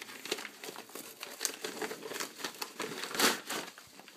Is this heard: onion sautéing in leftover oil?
no